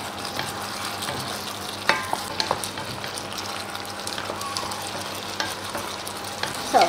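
Shiitake mushrooms stirred into a pan of shrimp in sizzling sauce, a steady close fry with occasional clacks and scrapes of the utensil against the pan.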